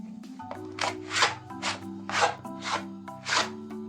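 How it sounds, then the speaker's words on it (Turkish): Dough is kneaded on a countertop for a layered dessert, giving rhythmic soft rubbing and pressing pushes, about six evenly spaced strokes over a faint background hum. "Dinlenen hamuru tezgaha alıyorum. Tekrar yoğurup toparlıyorum."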